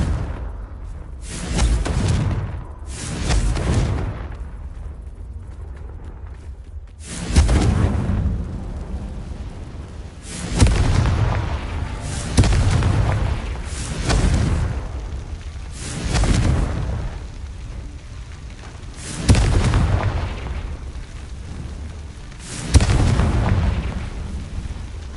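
Repeated Confringo blasting-curse explosions in the Hogwarts Legacy video game: about eight loud, booming bursts at irregular intervals, each with a heavy low-end thump and a fading crackling tail, with no talking.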